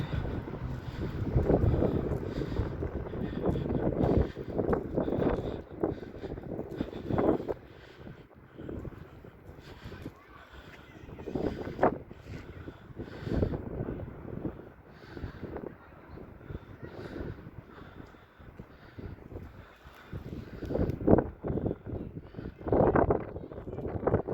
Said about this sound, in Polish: Jest wiatr.